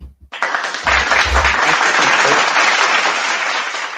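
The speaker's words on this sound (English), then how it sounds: "Let me give y'all applause" A small crowd breaks into applause, clapping starting abruptly after a brief pause, swelling quickly and holding loud and steady for several seconds.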